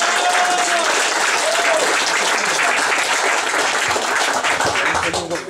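A crowd at an airsoft rally in Pomerania claps steadily for the sponsors, a loud sustained wash of applause that fades slightly at the end, with a brief whistle early on.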